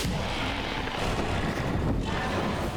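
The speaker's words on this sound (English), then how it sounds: "That's a dive bomb, free damage." Frost Wyvern dive bomb attack in the video game Dark and Darker, a dense roaring rush of wind-like noise with booming low impact, loud and continuous throughout.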